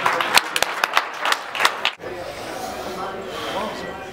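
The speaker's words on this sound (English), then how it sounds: "Give him a round of applause." A powerlifting competition crowd gives scattered claps for a lifter, the sharp slaps spread over about two seconds before fading into room murmur and voices.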